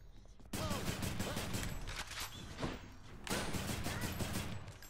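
Rapid bursts of gunfire from a weapon in the action game Hades, loud volleys of shots in two extended stretches with a short pause between, a voice faintly audible beneath.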